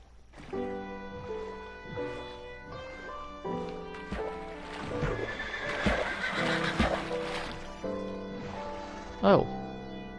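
Minecraft horses swimming in water neigh and whinny repeatedly, close and loud, over a steady watery background with a sharp louder call near the end.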